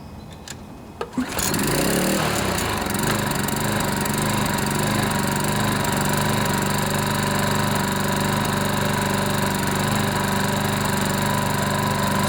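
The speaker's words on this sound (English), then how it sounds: "It's going to smoke still, so I'm going to start it up down here." A Toro TimeMaster two-bladed lawn mower's engine, still smoking after repair, gives a short pull-start rattle, then catches and runs at a loud, steady close idle for the rest of the stretch, without any talk.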